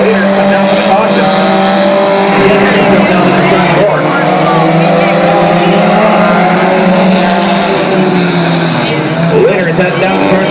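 4-cylinder race cars circle Mt Pleasant Speedway under caution in a steady, loud, layered engine drone that holds throughout, with an announcer talking over it.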